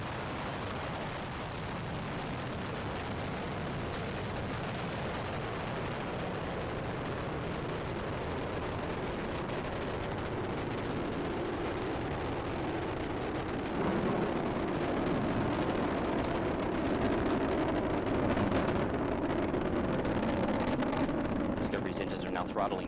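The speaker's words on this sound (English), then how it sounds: "The space shuttle now rolling over onto its back with a 10-minute ride into orbit." Space Shuttle Discovery's rocket engines thunder in a dense, continuous broadband roar during ascent, steady and powerful throughout with a slight swell in the latter half; a voice may be present beneath the noise.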